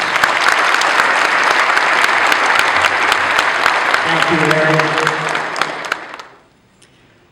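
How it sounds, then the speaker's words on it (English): Dense, loud applause from a concert audience at an Abruzzese federation Christmas concert, sustained for several seconds before fading out quickly, with someone briefly speaking over the tail end. "Let's give them a nice round of applause."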